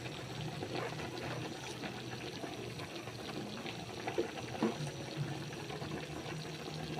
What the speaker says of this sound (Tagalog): Ngayon po lalagyan natin ng pampalasa at pang-asim.